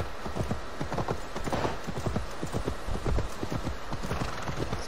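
Steady clip-clop of horse hooves in the video game Assassin's Creed Valhalla, a fast continuous rhythm close by, with a brief whinny in the mix and no talking.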